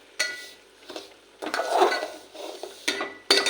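Fine semolina roasting in a pan, a series of scraping stirs and light metallic clinks of spoon on pan, close and intermittent over a faint dry sizzle, with no talk.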